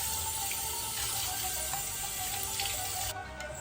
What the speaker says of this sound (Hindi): हमने लिया है 1 kg चिकन ब्रेस्ट। इसको हम अच्छे से वॉश कर लेंगे पहले।